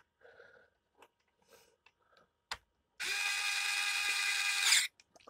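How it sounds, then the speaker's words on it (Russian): A Geardrive WORKPRO electric screwdriver whirs steadily for about two seconds as it drives a screw back in, rising slightly in pitch before stopping, after a few quiet handling clicks and knocks. "И теперь обратно заворачиваю."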